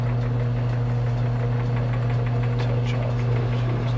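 A lathe hums steadily with its lead screw taken out of gear, a close, constant low motor drone with faint rhythmic mechanical ticking over it.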